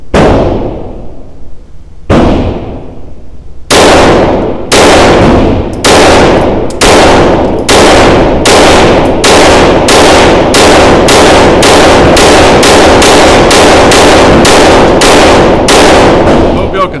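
A Sig P322 rimfire pistol fires a long string of very loud, sharp shots. Two spaced shots come first, then rapid, evenly paced fire, each crack ringing briefly.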